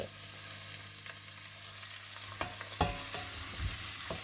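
Onion frying in oil in a pan, a soft continuous sizzle with occasional stirring clicks and scrapes, growing slightly louder toward the end.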